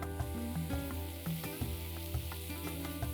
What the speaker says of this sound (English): Let's push the red onions, which are now sliced, into the pan